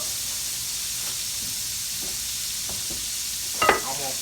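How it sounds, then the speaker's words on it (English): Constant hissing sizzle of catfish frying in hot oil, close and steady, with a few faint clicks and a brief scrape near the end. "we're going to get that frying off"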